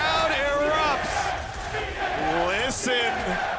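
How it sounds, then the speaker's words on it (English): A large esports arena crowd at the 2022 League of Legends World Championship roars and cheers in a sustained swell, with a commentator talking excitedly over it. "And the crowd erupts."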